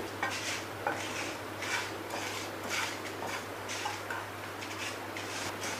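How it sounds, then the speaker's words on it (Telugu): Rice grains dry-fried in a pan, heard as soft repeated scraping and light clinking of a spoon stirring against metal, a steady rhythmic pattern under a low background hum, with no talk. "తర్వాత 1 స్పూన్ బియ్యం వేసుకొని ఇవి దోరగా ఫ్రై చేసుకోవాలి."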